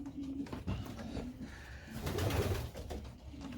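Several pigeons coo softly and repeatedly inside a loft holding about fifty birds, overlapping low murmuring calls with some rustling and shuffling around them.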